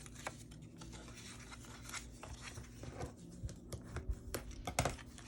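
Scored paper folded by hand for a Christmas mini album ornament, very faint close crinkles and scratchy creasing taps that grow a little busier toward the end.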